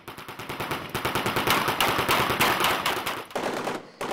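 Rapid bursts of blank-round gunfire from six shooters on a film set, with dense machine-gun-like rattling sustained for about four seconds and loud throughout, briefly dropping out near the end.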